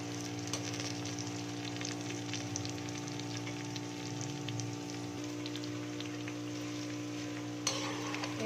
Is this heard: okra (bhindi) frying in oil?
yes